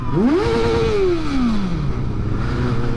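A Triumph TT600 600cc sport motorcycle gives one sharp, close rev: the engine note climbs quickly, holds briefly, then winds back down to a loud steady idle.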